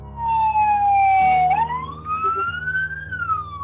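Ambulance siren wailing close by as it arrives where a baby was born in a car, one long rising and falling tone over engine and road rumble.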